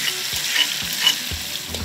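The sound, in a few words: sautéing ground spice paste in a pan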